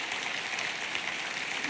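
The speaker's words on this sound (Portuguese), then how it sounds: "Se é para ele, aplauda bem forte." A church congregation applauds strongly, a dense, even wash of clapping that stays steady and moderately distant for the whole short stretch, with no voices standing out.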